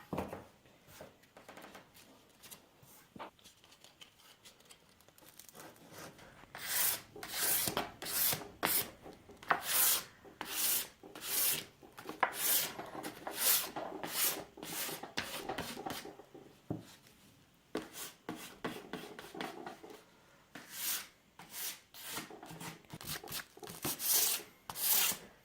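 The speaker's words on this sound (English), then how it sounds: "So you just want to make it look a little aged. Yeah, just scratching it up a little bit." A wooden end table surface is scratched up to look aged, heard as a quick series of close, dry rasping strokes. The strokes come in bursts after a quieter start and continue with brief pauses.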